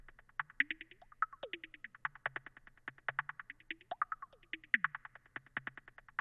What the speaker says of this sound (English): Then, guys, we have the second hi-hat pattern that's going to sound like this